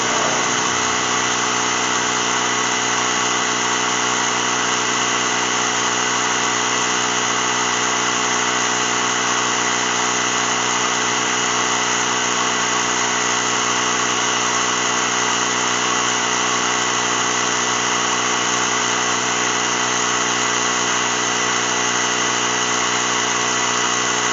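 A Ryobi ONE+ 18V cordless mini compressor runs without pause, a loud, steady mechanical drone with a constant buzzing hum heard close up.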